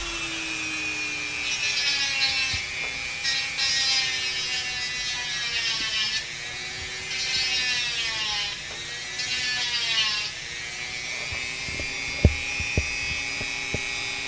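A hand tool reaming out the hole in a peach pit to make jewelry, a continuous close grinding rasp with squeaky, whining scrapes and a few small knocks near the end.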